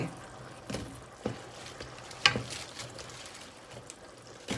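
Salmon scraps added gradually to hot oil in a pan, giving a soft continuous sizzle with scattered pops and light clinks, fairly quiet and without talk.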